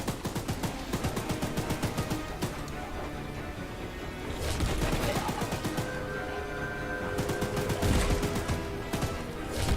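Rapid repeated gunshots aimed at Charles, the monstrous train in the indie game Choo Choo Charles, steady rhythmic bursts running throughout with a louder heavy rumble midway, close and dominant with brief talk mixed in.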